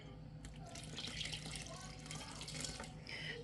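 Lemon juice for a lemon bar topping pours into a bowl in a steady, fairly close liquid splash that runs continuously for a few seconds.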